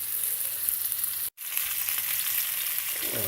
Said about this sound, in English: we have got some good sizzling going on here